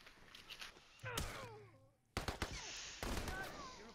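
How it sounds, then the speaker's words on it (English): Short bursts of game gunfire from a burst pistol, a few sharp multi-shot cracks spaced a second or so apart, fairly close, with some faint background sounds between them. "Got him with my burst pistol."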